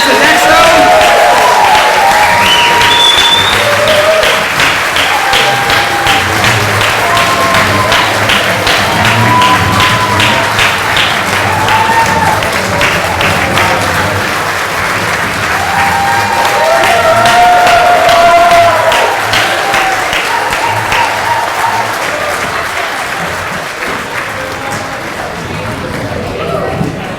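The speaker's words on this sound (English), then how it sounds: "I want to hear the loudest round of applause for Mike and his team" An audience at a Chamber of Commerce annual meeting applauds loudly and steadily for about 27 seconds, a dense wash of clapping mixed with cheering and crowd voices that dips slightly midway and then swells again.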